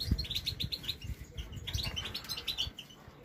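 Goldfinch and canary chirping together in a cage, with repeated bright high tweets over a busy, low rustling and thumping of the birds close by.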